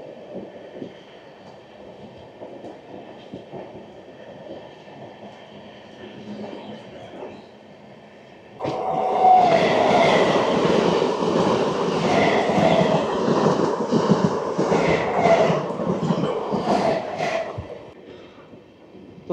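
Kanchanjunga Express (Sealdah–Sabroom) passing through Jonai Road station at speed, with a steady low rumble that jumps into a loud, dense roar and rattle of carriages midway, then eases slightly near the end.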